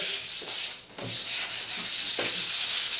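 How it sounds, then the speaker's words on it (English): Hand sanding a door before painting: steady scratchy rasping strokes repeat back and forth close up, with a brief pause near the start, alone without speech. "I'm still sanding and stuff, and this will just get it a little bit better."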